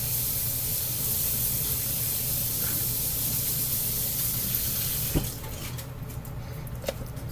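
Tap water runs steadily in a home kitchen as something is rinsed off, making a continuous hiss and splash that shifts in tone partway through, with faint clinks near the end.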